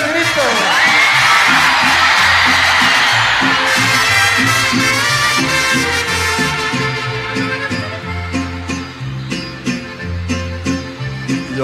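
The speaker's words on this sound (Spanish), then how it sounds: "cuando yo levanto el sombrero, me echan un grito todos." A live crowd at a Mexican ranchera performance lets out a loud, sustained collective shout and whoop, then breaks into scattered yells and cheers over rhythmic music.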